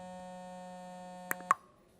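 A steady electronic phone ringtone hums at a quiet level, then cuts off abruptly with a couple of clicks.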